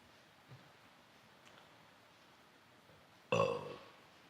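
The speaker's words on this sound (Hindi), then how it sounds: "कितनी गंदी गंदी डकार आ रही है, अरे बाप रे।" A loud, close belch bursts out once near the end, rough and drawn out for about a second after quiet room tone.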